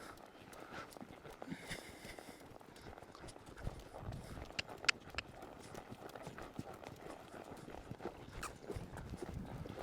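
Hooves of a mare and a young filly thudding on the ground as they slow and break into a gallop during cattle-work training, a steady irregular clip-clop at moderate distance with faint outdoor noise.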